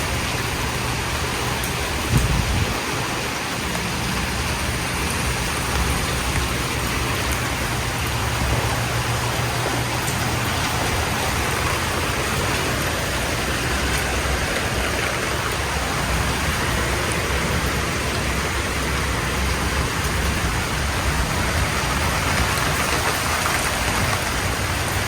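Heavy thunderstorm rain pours down in southwest Louisiana as a dense, steady hiss of drops striking surfaces, loud and unbroken for the whole stretch, with a brief thump early on.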